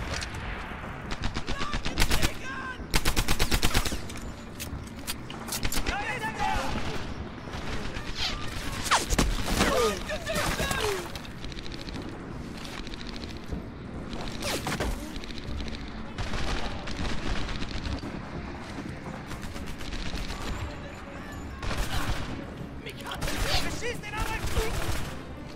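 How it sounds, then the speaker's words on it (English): Close-range gunfire in Medal of Honor Airborne, with rapid machine-gun bursts and single shots cracking loudly and repeatedly over a busy battle din, a voice talking intermittently beneath. "Now I'm shooting from such a close range, but every kill counts"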